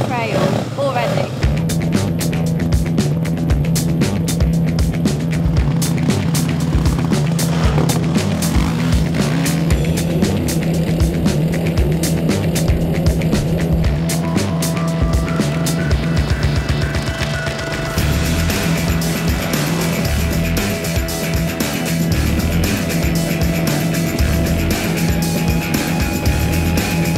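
Motorbikes riding laps around a field, engines revving and droning at close range with shifting pitch as they accelerate and ease off, while a voice talks over them.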